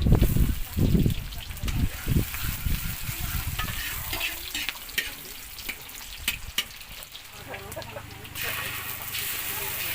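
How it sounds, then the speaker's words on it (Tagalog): Onion and garlic sizzle and fry in a pan as a base for menudo, with stirring scrapes and clatter early on, then a steady sizzle settling in, while a person talks over it. "ito magigisa naman tayo ng sibuyas at bawang para po ito doon sa lulutuin nating minudo"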